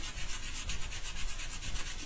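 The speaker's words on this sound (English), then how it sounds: "I've got a bit of sanding sponge" Close, continuous scratchy rubbing of a sanding sponge on woodwork, fast back-and-forth strokes with no voices.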